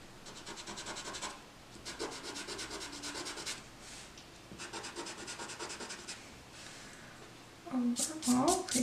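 A pencil eraser rubs back and forth on paper during a colouring session, giving close, scratchy strokes in repeated bursts with short pauses between them, then a brief louder shuffle at the end.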